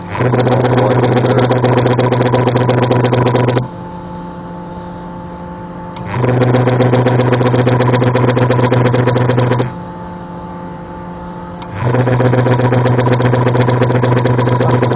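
An air compressor for airbrush painting cycles on and off, its steady motor hum and rattling drone running for about four seconds, falling quiet for roughly two, then starting again, three runs in all, loud and close.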